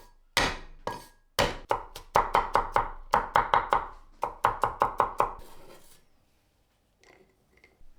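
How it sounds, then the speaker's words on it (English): A knife chops four garlic cloves on a cutting board in quick, sharp, evenly spaced strikes, grouped in several rapid bursts, close and loud, before a quiet pause with a couple of faint taps. "Chop 4 cloves of garlic."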